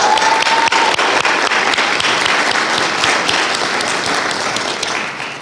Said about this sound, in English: Can we have another round of applause for all the graduates?